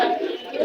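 A pigeon at a bird market gives a brief, soft coo close by, a single short call.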